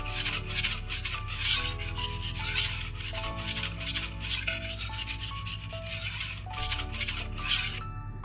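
A knife blade is sharpened on a very abrasive whetstone with steady back-and-forth rasping strokes, close and continuous, a faint hum running underneath and no talking.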